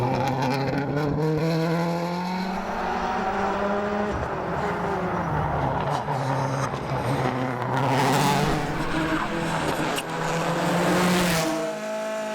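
A Subaru rally car climbs the Knockalla stage of the Donegal International Rally, its engine note rising and falling through gear changes as it powers uphill, loud and close throughout with sharper bursts of acceleration near the end.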